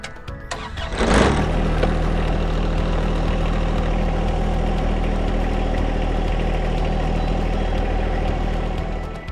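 A John Deere 1 Series compact tractor backing away from its detached 120R front loader: the diesel engine starts with a sharp burst, then idles and runs steadily and loudly close by, with almost no talk.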